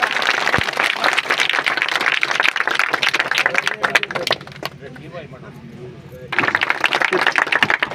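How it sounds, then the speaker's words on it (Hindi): Applause breaks out at a village gathering as a guest, Dr. Ritu, is welcomed and honored with a turban, loud and dense at first, then fading to a quieter stretch with a voice, before resuming strongly. "तालियों से स्वागत"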